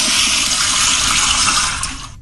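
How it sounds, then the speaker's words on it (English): A very loud toilet flush roars steadily at close range, a continuous rush of gushing water that tails off abruptly at the end, with no voices. "Give them one more flush."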